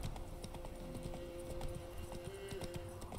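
Horse hooves clip-clop in quick, steady rhythm in The Witcher 3, with a faint tonal hum beneath and no talking.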